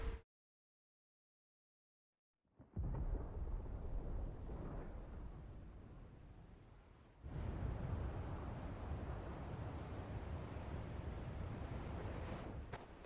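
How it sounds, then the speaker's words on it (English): Deep, rumbling thunder in the Final Fantasy 16 video game rolls in after a brief silence, a loud, sustained broadband roar that swells again partway through and carries on without pause. "Sounds like thunder."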